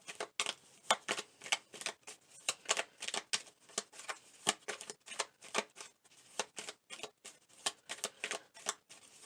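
A deck of oracle message cards being shuffled by hand during a tarot-style reading, a quick run of crisp, close riffling slaps in an uneven rhythm, heard alone without talk.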